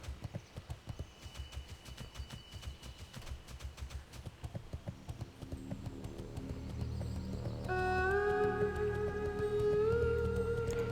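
Steady clip-clop of a horse mount's hooves in World of Warcraft, a quick even rhythm at moderate loudness, later joined by sustained tonal game music.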